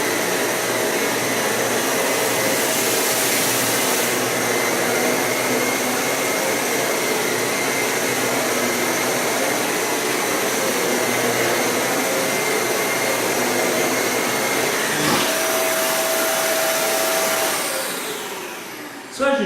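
A Dyson Cinetic Big Ball vacuum cleaner picks up a dense pile of debris on the floor, its motor giving a loud, steady whine that holds for a long stretch before briefly dipping and fading at the end.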